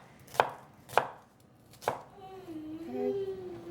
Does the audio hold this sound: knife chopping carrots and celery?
yes